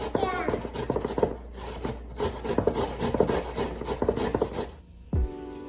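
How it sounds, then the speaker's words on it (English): Raw potatoes are rubbed against a cheese grater in quick rhythmic rasping strokes, close and fairly loud, ending with a brief clatter. "I'm using a cheese grater to grate the potatoes all up, and Berkeley thought they looked like noodl"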